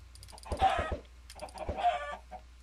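Chickens cluck in Minecraft, two short bursts of quick clucks close together on a quiet background, with no talk.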